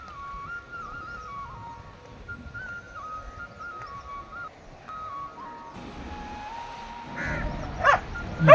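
Dogs on a green roadside in rainy weather give a thin, drawn-out whining tone, then bark in a few short, sharp bursts close by near the end.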